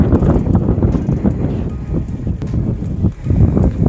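Strong wind buffets the microphone at an outdoor spot in Meghalaya, making a loud, continuous low roar with gusty surges that swell and fade over the whole stretch.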